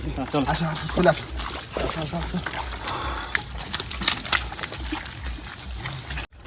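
Water sloshes and pours out as a small village pond is bailed dry to catch fish, a steady wet splashing that sits beneath nearly continuous conversation from several people.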